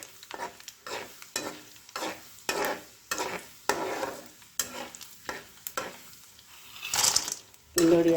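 Pindi vadiyalu, flour fritters, go into a pan of vankaya (brinjal) curry and are stirred with a spoon, giving repeated scraping strokes and bursts of frying sizzle that rise and fall in a rough rhythm.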